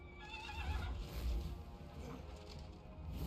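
A horse neighs in Total War: Warhammer, a drawn-out whinny mixed with clip-clop hoofbeats and a dense battlefield rumble, moderately loud throughout.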